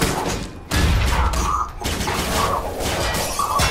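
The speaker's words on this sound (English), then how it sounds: "flashbang out" A flashbang grenade goes off in the action video game Alpha Protocol, a sharp shattering burst followed by rattling, crackling debris-like noise and a few further loud hits.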